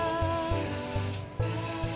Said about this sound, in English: It kind of leaves like a cloud of spray